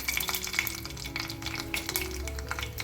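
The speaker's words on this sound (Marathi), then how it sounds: "तेल गरम झालं. मोहरी टाकते" Mustard seeds sizzle and pop in hot oil in a pan, soft scattered crackles over a low frying hiss for a few seconds.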